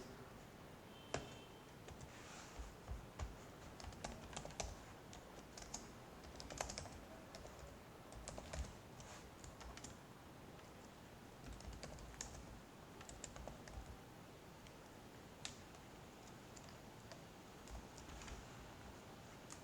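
Typing on a computer keyboard while editing HTML code, a quiet stream of irregular key clicks with occasional sharper taps, close and faint, no talking.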